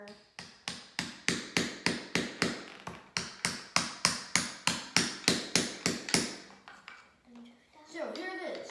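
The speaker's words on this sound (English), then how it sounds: "So hammer these in." Pieces are hammered in during a DIY time-capsule workshop build, with about twenty sharp, evenly spaced taps in a quick steady rhythm, followed by a pause and a voice.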